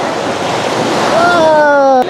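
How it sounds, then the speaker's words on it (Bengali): Sea waves and wind on the beach at Cox's Bazar make a continuous broad roar of surf and gusting air, close and loud, with a brief voice-like tone rising near the end. "এটা পৃথিবীর দীর্ঘতম সমুদ্র সৈকত"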